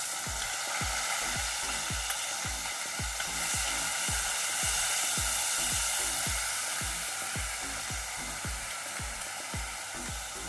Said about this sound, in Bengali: এখন দেব পেঁয়াজ বাটা।